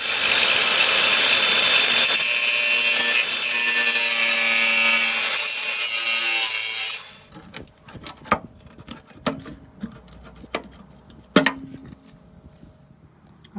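A power grinder works loud and continuous on the rusty metal edges, smoothing them off, for about seven seconds before cutting out, leaving scattered clanks and knocks.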